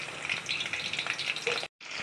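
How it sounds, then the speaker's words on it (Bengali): Banana chips frying in hot oil crackle and hiss continuously, a dense, bubbling sizzle heard up close and loud, broken by a brief gap before it resumes. "এই দেখেন আমাদের চিপসটা ভাজা হচ্ছে এখানে।"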